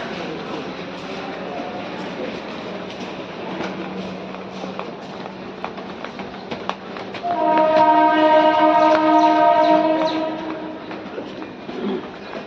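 A local train passes at a busy station near Parel: a low rumble and clatter of wheels build, then a loud sustained horn blares for several seconds before fading into station noise.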